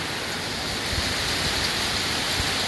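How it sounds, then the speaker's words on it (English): A sudden hailstorm in Portland gives a steady, fairly soft rushing patter of falling ice and rain, even and continuous, with a few faint low thumps and no talking. "It's like a hailstorm."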